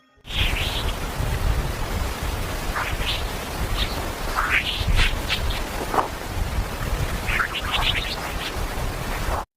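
Parker Solar Probe recording of dispersive beeps travelling through solar storms, turned into sound: rapid whistling chirps that sweep sharply in pitch, scattered over a loud, steady hiss of broadband noise.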